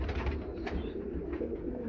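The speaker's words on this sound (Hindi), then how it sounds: "ये जी इनके अमृतसर कबूतर हैं" Amritsar pigeons of a prized breed in a loft cage give a steady, close, low cooing that rolls on continuously, with no voices over it.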